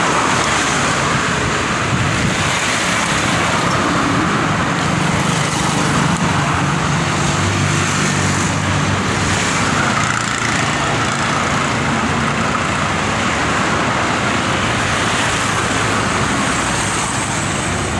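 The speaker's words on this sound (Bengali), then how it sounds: "এই যে দেখুন শ্রীলঙ্কার হাইওয়ে।" Traffic rushes along a highway in Sri Lanka, a loud continuous roar of passing cars and engines with swells as vehicles go by, no voices.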